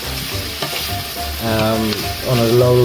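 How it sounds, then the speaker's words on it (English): Onions cut into wedges fry in olive oil with a steady sizzle and occasional scraping stirs, loud and close, while a person talks over it. "we've added about 4 onions cut into wedges into some olive oil. We're just frying them off."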